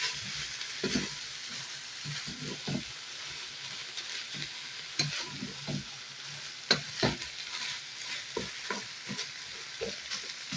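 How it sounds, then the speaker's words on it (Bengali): Rice fries in a pot with onion, garlic and salt, giving a steady bright sizzle while a spoon repeatedly stirs and scrapes, heard close with no talking. "লবণ দিয়ে যে এখন চাউলটাকে ভুনে নিচ্ছি"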